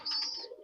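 A pigeon in a loft gives a single brief, soft coo close by with faint chirpy overtones.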